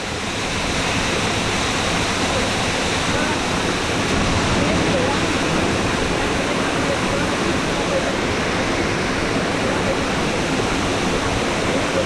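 A waterfall at Dharapalli near Rajahmundry roars steadily and loudly at close range, a dense unbroken rush of falling water that stays constant throughout.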